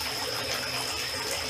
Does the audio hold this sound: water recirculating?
yes